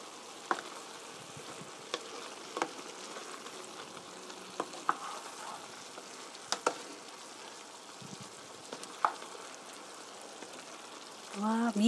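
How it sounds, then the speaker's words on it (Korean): Soft sizzling from a pan of meatballs, potatoes and carrots in curry, with occasional sharp scrapes and clinks as the food is flipped and stirred, faint and steady throughout. "그럼 뒤집어 골고루 섞어 보겠습니다."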